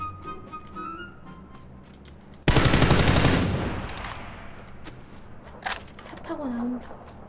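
Burst of rapid automatic gunfire in a Korean battle-royale shooter game, loud and sustained for about a second before fading, followed by quieter distant game noises and scattered shots.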